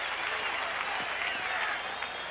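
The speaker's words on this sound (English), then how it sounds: "that brings the crowd alive here at Tampa Stadium" A 50,000-strong football crowd at Tampa Stadium roars in a steady, dense wash of cheering and applause, loud and continuous throughout.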